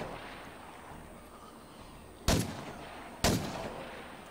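Two sharp rifle shots from the zombie survival game State of Decay 2, spaced about a second apart and ringing out over a quiet background hiss.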